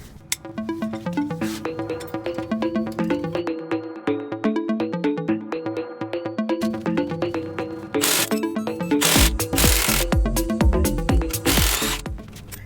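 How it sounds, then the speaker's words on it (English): Impact wrench spinning off a suspension nut on a Toyota Camry during control arm work: a dense, loud mechanical rattle with steady hammering clicks, growing harsher and noisier toward the end, no talking. "the impact wrench was able to remove the nut with no problem"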